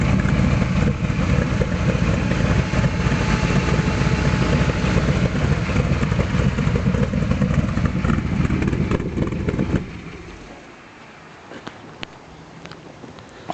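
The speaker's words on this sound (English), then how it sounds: "That's at idle, and you can hear that lopey sound because it's got a very big high duration cam." A car engine with a big high-duration cam idles with a lumpy, lopey rumble, loud and close and steady for about ten seconds, then cuts off into quiet with a few small clicks.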